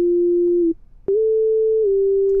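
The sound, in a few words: synth sine wave lead with glide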